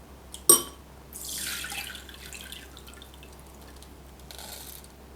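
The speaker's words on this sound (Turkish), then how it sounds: "Hepsini yıkıyorum. Süzüyorum." Green lentils and chickpeas are being washed and drained in water in a kitchen, with a sharp splash or knock followed by a running, trickling pour and softer drips, all close by and fairly quiet.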